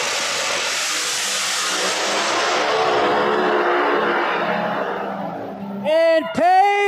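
No-prep drag racing cars at Flying H roar down the strip in a long, loud engine run, fading slightly as they pull away, followed by brief harmonic bursts of voice-like commentary near the end.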